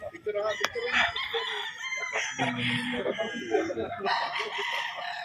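Boston Black gamefowl stags, early-bird October-born birds at a gamefarm, crow repeatedly with loud overlapping cock-a-doodle-doo calls and scattered clucks, several birds close by and farther off in a busy yard.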